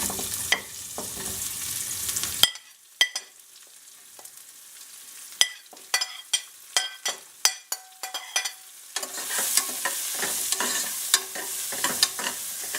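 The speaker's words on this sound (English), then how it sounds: "I'm just going to put my onions and fry them all" Onions sizzle in a pan for a vegetarian red lentil biryani: a loud hiss at first, then a quieter stretch of crisp scraping and clinking stirs, before the frying hiss swells back up.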